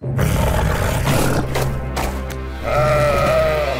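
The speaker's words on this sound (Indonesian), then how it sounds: "Sepertinya raungan Lin memanggil kambing gunung itu sungguhan." Mountain goats in a Loud House cartoon let out loud, drawn-out bleating roars that overlap throughout, rising to a wavering higher cry near the end over a steady low background.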